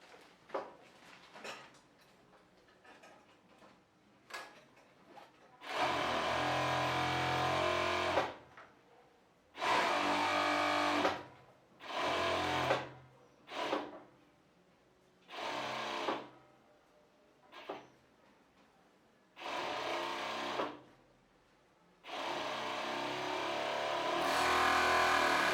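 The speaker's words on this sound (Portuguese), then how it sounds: "primeiro eu vou fazer a overlock na barra" An overlock sewing machine stitches a fabric hem on a women's elastic-waist shorts, running in several loud, steady whirring bursts of a few seconds each, separated by quiet pauses with small clicks and fabric handling.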